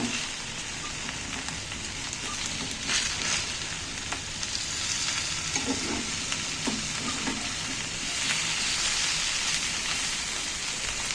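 Steady, dense sizzling of hilsa fish frying in a pan without oil, a continuous crackling hiss with occasional louder spits and pops throughout.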